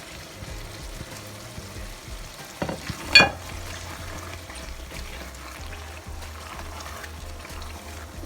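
Carrots and spring onions dropped into a frying Ghanaian fish stew, a soft bubbling sizzle with a clatter and splash as the vegetables go in midway, then steady quiet frying.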